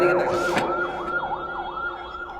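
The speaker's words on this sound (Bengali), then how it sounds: "ডানে কি অ্যাম্বুলেন্স যাচ্ছে" An ambulance siren wails in a steady rising-and-falling sweep as it passes, loud and close, with a brief sharp clatter early on and no talk over it.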